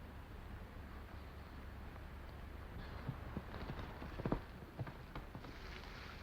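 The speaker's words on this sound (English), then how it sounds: "Get on your horse." Horse hooves clip-clop faintly at a walking pace in an old Western, a few soft irregular knocks rising out of constant background hiss with no voices.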